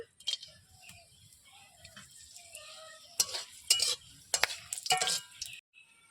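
Whole garam masala sizzles in hot oil in a pan for Bengali-style masala fish, while a spoon or spatula scrapes and knocks against the pan in a run of sharp, irregular clatters near the end.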